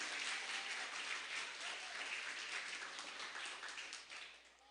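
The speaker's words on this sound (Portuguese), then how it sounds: "Então dê uma salva de palmas ao Senhor bem forte, em nome de Jesus." A church congregation applauds during a service, a faint, distant and even patter of many hands that carries on steadily and tapers off slightly at the end.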